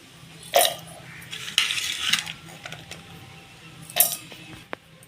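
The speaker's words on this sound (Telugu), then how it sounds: "ఇప్పుడు ఇవన్నీ ఈ మిక్సీ జార్లోకి వేసుకుందాం" Small pieces of roasted ingredients for a fresh coconut and green chilli chutney clatter and rattle into a hard mixer-grinder jar in a few separate drops, with scattered light knocks and clinks in between.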